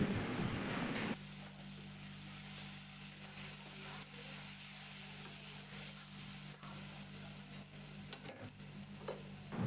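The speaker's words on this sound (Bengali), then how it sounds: "মশলাটাকে খুব ভালো করে আলুর সাথে কষিয়ে নিতে হবে" Spice paste frying with potatoes for a rui fish curry makes a low, steady sizzle under a constant hum, with an occasional stir or scrape and a brief louder burst at the start.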